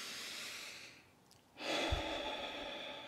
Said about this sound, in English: It helps to breathe in through the nose and maybe out through the nose and mouth like this.